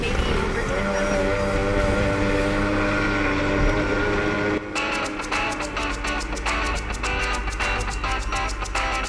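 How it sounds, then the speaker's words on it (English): A Motosurf motorized jet surfboard drones on the water with a tonal engine whine. Partway through, the sound turns rougher, with bursts of splashing and spray, loud and close. "Full on jet surf."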